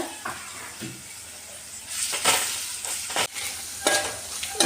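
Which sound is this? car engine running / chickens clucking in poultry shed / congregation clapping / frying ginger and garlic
frying ginger and garlic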